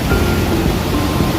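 A swollen river after rain rushes past as a dense, steady roar of churning water, loud and close, with no talk.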